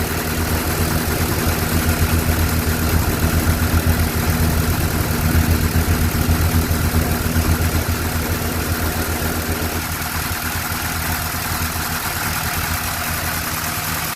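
A Chevrolet Blazer engine runs steadily on fuel drawn from a newly installed tank, a loud continuous idle with a constant low rumble throughout.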